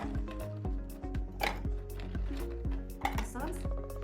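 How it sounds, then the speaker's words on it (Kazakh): Ice cubes are dropped into a dish for a children's science activity, giving a run of sharp clinks and knocks at an uneven rhythm, close and fairly clear. "Мұз саламыз."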